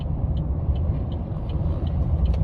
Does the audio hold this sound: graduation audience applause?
no